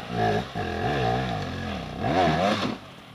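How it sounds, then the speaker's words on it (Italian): A motorcycle engine revs hard on the throttle in repeated rising and falling surges, loud and close, with the pitch climbing as it winds up, then dropping off at the end. "Tiello il gas, fai sgommare la ruota e fai salire il motore"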